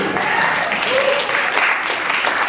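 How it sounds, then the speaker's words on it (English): Audience applause at a stand-up comedy show in Portland, a dense, steady burst of clapping that fills the room at constant volume for a couple of seconds. "It's called a Portland applause break."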